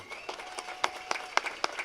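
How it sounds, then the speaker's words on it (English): Sparse applause from a crowd at an outdoor baseball game between the Brantford Red Sox and the Barrie Baycats, with scattered distinct claps standing out over a steady background hum, fairly faint and at a distance. "One more round of applause for our 4 gentlemen on the field"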